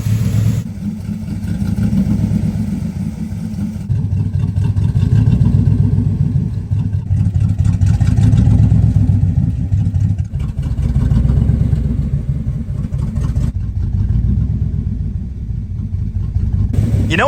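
A 1963 Chrysler 300J idles roughly, its engine rising and falling in repeated surges for a long, steady run, with a deep rumble close by and no talk over it.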